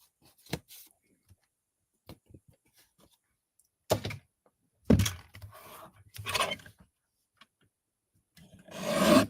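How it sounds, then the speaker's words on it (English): A paper trimmer cuts a card for a Christmas tea box and card set, faint scattered taps and clicks followed by a few short, close sliding scrapes of the blade. "I'm going to trim this just a tad bit."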